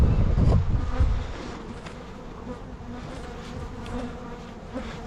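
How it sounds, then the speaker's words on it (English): Healthy honeybees buzz at a big hive in a mountain nuc yard while being fed pollen patties. A loud, close swarm of buzzing opens the scene, then settles into a steady, dense hum that carries on alone. "Keeps some nice healthy bees in there."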